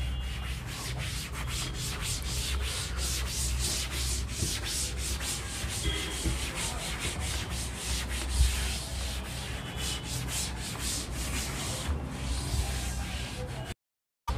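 Steady dry rubbing as a duster wipes notes off a classroom board during a physics lecture, a continuous scratchy swishing that runs unbroken for about fourteen seconds, close and fairly loud, with no talking, cutting off abruptly at the end.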